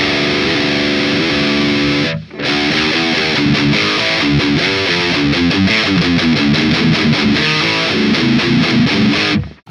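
An electric guitar runs through amp-simulation plugins for a heavily distorted tone, chugging loud palm-muted riffs with chord hits. There is a brief cut near the start, then it drives on steadily to the end.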